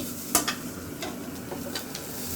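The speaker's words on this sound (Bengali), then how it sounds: "আমার মা এখন করল্লা ভাজি নামিয়ে নিতেছে" Bitter gourd fry being stirred in a pan at home, a soft oily sizzle broken by a few scraping strokes of a spatula, one sharper clack near the start.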